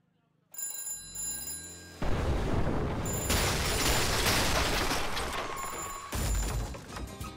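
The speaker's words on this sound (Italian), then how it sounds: "il telefono ha smesso di squillare!" A telephone rings in the video game Slaps And Beans 2 with a bright, bell-like tone. It gives way to loud, chaotic crashing and blasting game sounds.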